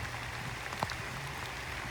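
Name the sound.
rain falling in a muggy forest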